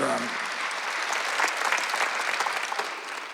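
Congregation clapping together during an Easter Sunday church sermon, a dense, steady wash of many hands filling the room, with faint traces of voice at the very start.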